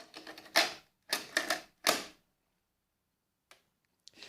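Mechanical clunks and clatter from a Sharp GF9500 portable stereo as its cassette tape is turned over: a rattling handful of clicks and snaps, then quiet, then two small isolated ticks, close and moderately loud.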